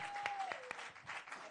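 Studio audience claps for a DJ on a TV set, a short, fairly soft burst of applause with a few sharper individual claps and a faint tone running underneath.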